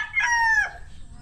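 A rooster crows once, loud and close, in a single drawn-out call on a farm where chickens are kept, with a faint low background hum.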